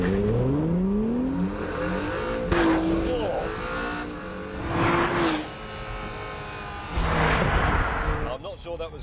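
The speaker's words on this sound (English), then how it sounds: "Right, put it in track mode. Here we go, launch control." Honda NSX pulling away hard under launch control in track mode, engine note rising through repeated climbing sweeps with brief gear-change breaks, loud and close from inside the car, with a voice talking over it.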